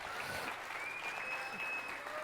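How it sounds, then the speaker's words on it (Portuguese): Audience applause for a volunteer named Mateus during a live lecture on beliefs, a steady wash of clapping at moderate level with a faint high tone running through it. "Uma salva de palmas pro Mateuzinho aí"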